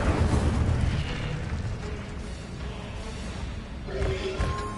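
A fire spell cast in Hogwarts Legacy bursts out as a loud, rumbling whoosh of flame that dies down, then a second roaring blast follows near the end.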